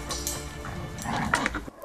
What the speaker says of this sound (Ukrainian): І собаки, і мавпочки тут тимчасово, каже пан Орест.